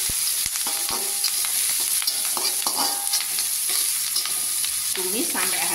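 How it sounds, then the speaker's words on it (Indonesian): Shallots, garlic and chili stir-fried in a hot pan, a constant loud sizzle broken by scraping and clanking of the spatula against the pan, close up and without speech. "Tumis sampai harum dan wangi."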